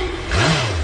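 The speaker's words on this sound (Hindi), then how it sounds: "गाड़ी चालू नहीं हो रहा है।" A car engine that won't start gives a short, brief surge of revving, a mid-pitched whir that swells and then fades within a second.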